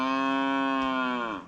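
A single cow gives one long, loud, close moo on a sunny morning, a steady tone that holds strongly before tailing off at the end, with no talking.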